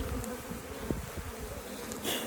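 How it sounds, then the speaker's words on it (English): Swarm of bees pouring onto a branch, a dense close buzzing hum with individual bees flying past near the microphone. "I've gotten quite a few bees to move onto this branch, and now they're really starting to pour onto the branch"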